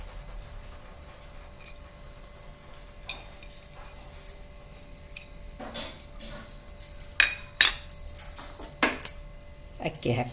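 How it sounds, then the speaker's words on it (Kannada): Lentils being added into a pressure cooker while cooking kusabi palya, a string of light clattering and rattling taps that grows busier toward the end, heard close against a quiet background. "ನೋಡಿ ಬ್ಯಾಳೆ ಹಾಕಾಕತ್ತೀನಿ."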